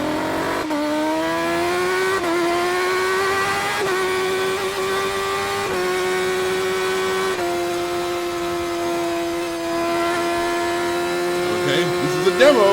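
A 2017 BMW HP4 Race superbike screams through an onboard demo lap, its high-pitched engine rising and falling with each gear change, loud and close, with a voice briefly heard over it near the end.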